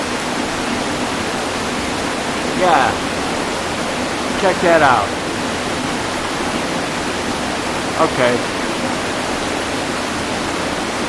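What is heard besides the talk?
water dripping and running in a wet cave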